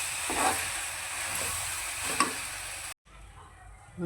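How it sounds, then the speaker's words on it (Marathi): Dry coconut roasting in a kadhai, stirred with a steady scraping and soft sizzle close by; the sound cuts off briefly near the end before resuming more faintly. "त्याच कढईमध्ये आपण सुकं खोबरं भाजून घेतोय."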